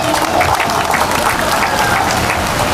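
A large crowd at an outdoor political declaration rally in a town square applauds loudly and continuously, the clapping dense and even throughout.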